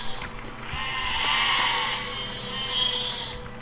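A drawn-out sheep bleat in the video game Besiege, fairly loud and wavering over a steady background, with a second bleat rising near the end.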